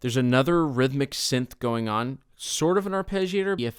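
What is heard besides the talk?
None of the usual background noises is heard.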